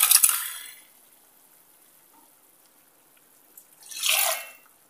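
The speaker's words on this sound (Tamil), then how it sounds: "இப்போ நம்ம இந்த பருப்பை இதில் கலந்துடலாம்." Mashed dal poured into boiling tamarind broth for brinjal kulambu, a short liquid splash at the start and another wet pour near the end, with near silence between.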